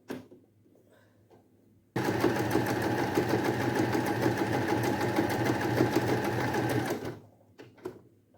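A household sewing machine set to a large stitch runs in one steady, close whirring burst for about five seconds, with quiet pauses before and after.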